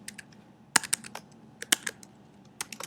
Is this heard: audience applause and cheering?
no